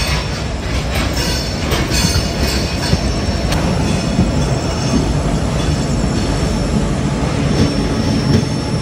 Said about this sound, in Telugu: ట్రైన్ దాదాపు 7 గంటల లేట్ గా నాగ్పూర్ కి అయితే వచ్చింది.